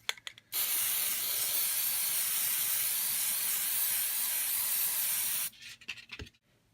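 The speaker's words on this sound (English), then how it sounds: "I'm actually going to spray paint it with chalkboard chalk" An aerosol can of chalkboard spray paint hisses in one continuous burst of about five seconds as a pumpkin is coated, loud and close, with brief rustling before and after.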